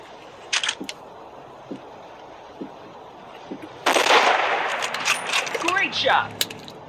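Sniper rifle fire in the mobile hunting game Hunting Sniper: a few short sharp cracks early on, then a loud broadband blast near the four-second mark that trails into a rolling, echoing decay with scattered clicks.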